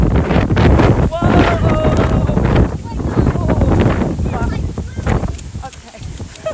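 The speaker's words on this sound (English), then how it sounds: "The wind is like pushing so hard." Strong gusting wind buffets the microphone during a summer rainstorm in Texas, a heavy rumbling roar that persists throughout while people talk and exclaim over it.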